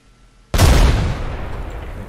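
A frag grenade detonates in the battle-royale shooter Apex Legends: after a quiet moment, a sudden loud blast bursts out and rolls into a long rumbling decay with crackling debris, close and dominant with no speech.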